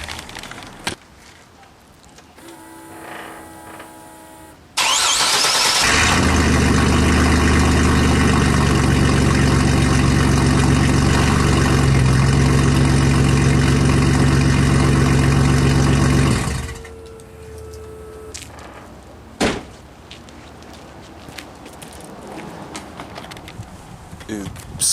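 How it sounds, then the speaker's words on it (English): A 2000 Chevy Blazer with a straight-pipe exhaust idles loud and rumbling for about ten seconds mid-clip, framed by quieter stretches with some talking before and after. "So this is the straight pipe as it sounds now."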